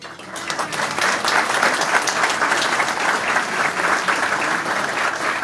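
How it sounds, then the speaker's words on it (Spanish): Sustained audience applause fills a folk music gathering (peña) at El Quincho, dense steady clapping from a crowd, loud and continuous throughout without pause. "Un gran aplauso para ustedes mismos."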